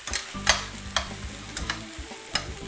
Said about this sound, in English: I'm sort of deglazing this pan at the same time